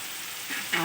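Chopped tomato hitting half-fried onions in a hot pan, a steady fizzing sizzle that flares briefly louder near the end as the pieces land.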